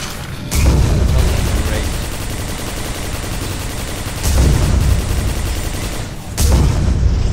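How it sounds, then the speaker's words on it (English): A machine gun in the Quake 4 PC game fires in three loud, sustained bursts of rapid shots separated by short lulls, with a voice faintly under the gunfire. "This thing just will not die with the machine gun."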